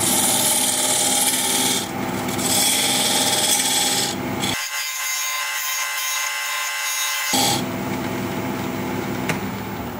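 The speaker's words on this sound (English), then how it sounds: "Now I'm going to use this diamond point tool to square up the sides of the tenon." A diamond point tool squares the sides of a tenon on a spinning wood lathe, a steady coarse rasping scrape that stops abruptly for about three seconds and then resumes, loud and close.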